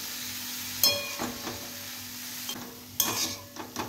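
Fresh dill greens (shepu bhaji) stirred and frying in a pan, with a soft continuous sizzle broken by a few scraping strokes of a spoon, close up and without talk.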